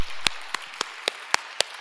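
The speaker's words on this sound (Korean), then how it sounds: "우리 하나님께 감사와 영광의 박수 올려드리겠습니다" Sharp hand claps repeat in an even, quick rhythm, about seven beats in under two seconds, against a hushed background during a church service.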